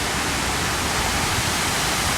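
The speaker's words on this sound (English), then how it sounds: "look at this waterfall" A waterfall in Washington DC gives a steady, even rush of falling water, a constant broadband roar with no breaks over the short stretch.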